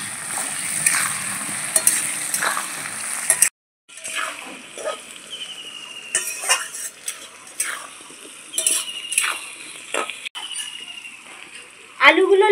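Potatoes with turmeric and salt fry in a pan until reddened, a close sizzle under brisk stirring, with scraping and clinks of a utensil against the pan and a voice talking over it.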